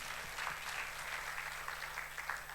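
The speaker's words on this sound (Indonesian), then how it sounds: "Tepuk tangan yang paling meriah buat Tuhan Yesus." A church congregation claps for Jesus during a worship service, a faint, steady wash of many hands from a distance, with no break across the brief span.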